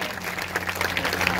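Sustained applause from a church congregation during a Hindi Sunday sermon, a dense, steady wash of clapping, moderately loud and fairly close, with a low hum underneath and no clear talk.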